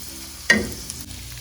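Marinated chicken frying in a pan for fried rice lands with a sudden loud sizzle. The sizzle then settles into a steady, close crackle with a brief stir partway through.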